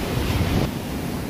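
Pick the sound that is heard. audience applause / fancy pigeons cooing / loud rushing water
loud rushing water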